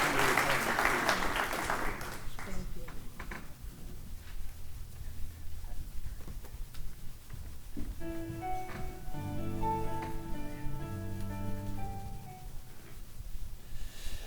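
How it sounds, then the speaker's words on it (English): Audience applause for awardees at a community awards ceremony, a dense burst of clapping at the start that fades quickly into quieter room noise and then music. "Would you join me in just applauding all of our awardees today?"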